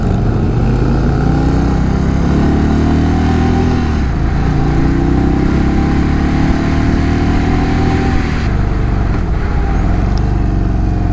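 A BMW R1250RS motorcycle engine builds steadily under a twisting throttle, a loud continuous drone that rises in pitch through the gears, heard up close from the rider's position with wind noise and no talk.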